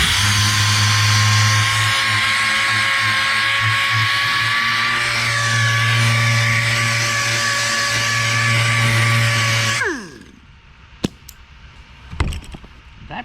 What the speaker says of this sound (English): I'm using a very aggressive sandpaper,